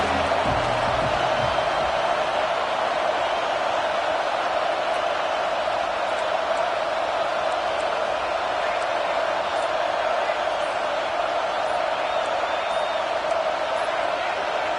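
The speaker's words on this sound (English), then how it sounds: "with this place rocking, the crowd forces a false start" Stadium crowd roaring steadily at a college football game between Nebraska and Texas A&M, a dense, constant wash of noise that stays loud for the whole stretch without letup.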